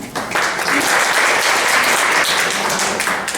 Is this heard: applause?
yes